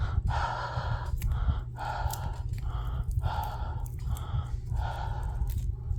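Slow, heavy breaths blown out repeatedly onto a sticker on a handmade fun fold card, about six long exhales in a steady rhythm, close to the mic over a constant low hum, with no talking.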